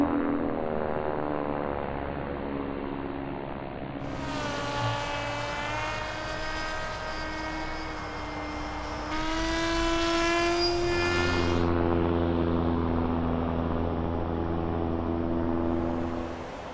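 ARWing Pro RC model plane with electric propeller flying overhead, a steady buzzing whine that rises and falls in pitch as the throttle changes and the plane passes, heard alone outdoors without speech.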